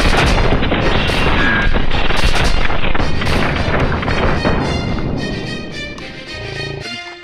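Dense, loud gunfire and booming blasts in the PlayStation VR shooter Firewall: Zero Hour, a continuous barrage of close shots and explosions that thins out toward the end.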